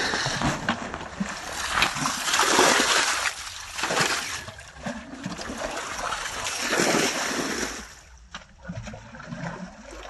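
Water splashing and sloshing as a village pond is bailed out by hand to catch fish, in repeated loud surges with trickling between them and some wind outdoors.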